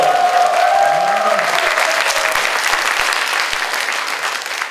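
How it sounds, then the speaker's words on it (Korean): A studio audience on a Korean talk show breaks into steady, loud applause that holds across the whole stretch and fades slightly at the end. "이분들 대박 나시라고 여러분 큰 박수 한번 보내주세요."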